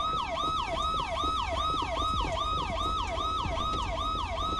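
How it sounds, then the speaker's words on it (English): Police sirens wail in the GTA LSPDFR video game, a loud continuous electronic yelp cycling rapidly up and down over a low engine rumble, dominating throughout without speech. "At the moment, I can't hear a thing since these bloody sirens."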